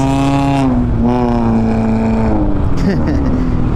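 Loud aftermarket muffler on a Honda Click 125i scooter, a strong droning exhaust tone rising and falling as it revs close by, with a voice talking over it.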